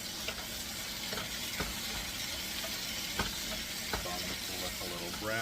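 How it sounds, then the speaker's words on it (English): Food browning in a pan for a budget ravioli lasagna is stirred, with soft scraping strokes and occasional utensil knocks over a low steady sizzle, a few faint voiced sounds near the end. "give this a stir"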